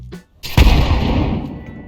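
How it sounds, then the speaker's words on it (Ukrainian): A grenade goes off right beside the player in Counter-Strike 2: a single loud, sharp blast after a short quiet moment, trailing into a rumbling decay. "Всі знають, що вибух гранати біля гравця супроводжується характерним звуком."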